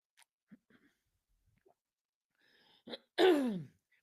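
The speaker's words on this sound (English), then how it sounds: "And as I clear my throat" After a few faint small sounds, a person clears their throat twice, the second a loud, rasping rumble close to the microphone.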